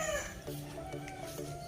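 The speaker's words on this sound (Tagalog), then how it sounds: "May manok pa sila dito. Panabong." Fighting cocks kept at a house and lot beside a highway cluck and crow faintly in the background, with steady ambient noise throughout and no talk.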